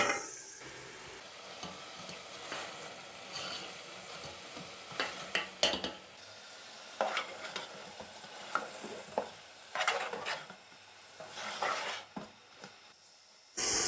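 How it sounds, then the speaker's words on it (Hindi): Fried chicken pieces stirred into a sizzling gravy in a pan, with a soft continuous frying hiss broken by repeated scraping stirs of a spoon against the pan, fairly faint and close. "अब हमने जो चिकन फ्राई करके रखा था वो ऐड कर देंगे।"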